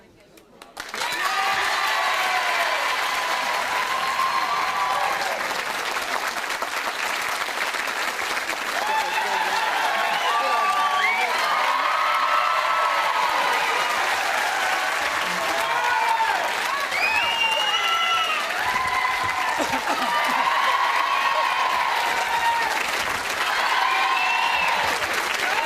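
A theatre audience at a comedy tribute show applauds steadily and loudly for a long stretch to judge a contest, with whoops and cheering voices rising over the continuous clapping.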